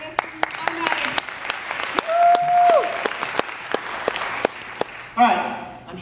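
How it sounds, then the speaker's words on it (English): An audience at a UserConf 2014 conference talk claps, a dense burst of applause with scattered sharp individual claps, and people talking and calling out over it. "Round of applause."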